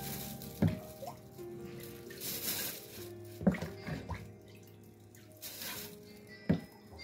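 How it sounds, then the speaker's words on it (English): Water poured into a cooking pot while preparing okpa at home, splashing and trickling in a few short bursts with small knocks between them, close and fairly quiet. "Let me add more water because it's too hot."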